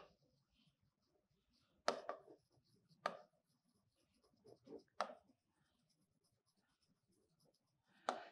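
Chalk or marker writing on a board during a probability lesson, a handful of short scratchy strokes separated by pauses, quiet and close with no voice over them.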